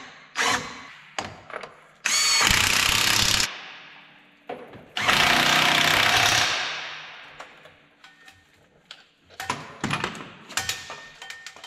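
Power tool tightening bolts on heavy-duty parts of a Bobcat machine, two long loud rattling bursts of an impact driver among shorter clanks and clicks of metal handling, close by.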